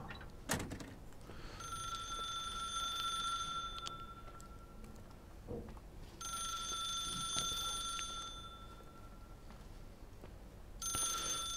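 Old landline telephone in The Suicide of Rachel Foster video game, ringing in repeated bursts of bright bell trills with short silent gaps, moderately loud inside a quiet room with no talk.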